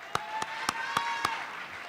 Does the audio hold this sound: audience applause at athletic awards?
yes